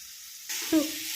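Pumpkin dropped into a hot pan with oil: a sudden loud sizzle bursts in halfway through with a brief hiss and crackle, then keeps frying steadily.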